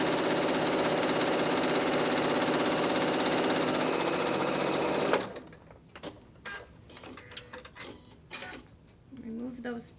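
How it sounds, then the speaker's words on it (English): A sewing machine stitches a quarter-inch seam on a fabric face mask, whirring steadily and loudly for about five seconds before stopping abruptly, followed by quieter handling clatter and a little nearby talk. "I've sewn a 1/4 inch seam on each side"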